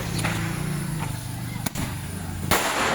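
Double shot fireworks go off during a Diwali night celebration in Virar East, with sharp cracks and bangs over a steady noisy street background.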